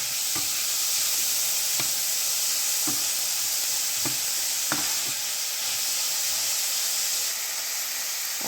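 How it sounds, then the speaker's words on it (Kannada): Chopped onions and green chillies fry in hot oil for a rajma curry, giving a steady, close sizzle with a hiss, punctuated every second or so by the sharp clack of a stirring spoon against the pan. "ಮೆಣಸಿನ್ಕಾಯಿ ಫ್ರೈ ಆಗೋದು, ಕಟ್ ಮಾಡಿದ ಈರುಳ್ಳಿ ಹಾಕಬೇಕು. ಚಲೋ ಬಾಡಿಸ್ಕೋಬೇಕು ಕೆಂಪಾಗುತ್ತಾನ."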